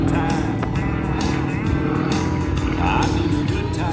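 An aerobatic propeller plane at the Central Coast Airfest 2023 holds a prop hang, its engine droning loud and steady throughout with a continuous rough roar, while an announcer talks over it.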